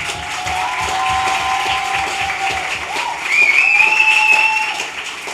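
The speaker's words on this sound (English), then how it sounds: "ask you to clap as loudly as you can" A festival audience at a literary event claps loudly and steadily in a hall, with sharp whistles rising above the applause partway through and a few cheers mixed in.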